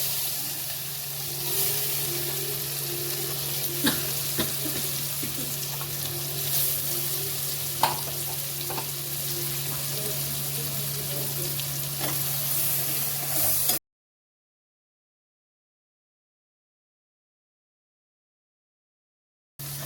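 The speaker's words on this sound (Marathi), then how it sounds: "मसाला बारीक गॅसवरच फ्राय करायचा" Masala paste with chili powder and pav bhaji masala fries in oil over a moderate flame for egg curry, a steady close sizzle with occasional stirring taps and a low hum, cutting to silence for the final few seconds.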